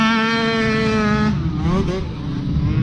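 Quad bike engine revving hard at the start of a hare scramble race, a loud close rising whine that drops in pitch as the bike pulls away, with other engines around it.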